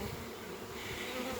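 A honeybee swarm gathers on a bush, the bees fanning their wings with raised abdomens, making a steady, dense, close buzz that holds evenly throughout.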